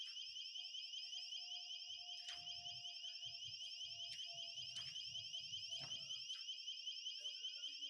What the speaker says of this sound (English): I think somebody triggered the alarm on the gate